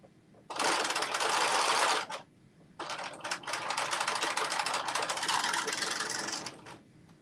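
A sewing machine stitches two tie pieces together for a top, running in two loud bursts: a short run, a brief pause, then a longer steady run that slows and stops.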